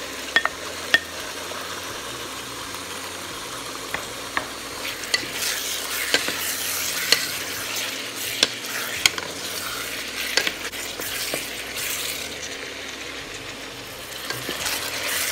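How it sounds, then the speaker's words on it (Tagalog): Onion and beef sauté in a pan for a red-wine beef stew, a continuous close sizzle broken by frequent spoon scrapes and light clinks against the pan, with no voices. "At kasabay nito, pwede na rin na natin isute ang ating karne ng baka."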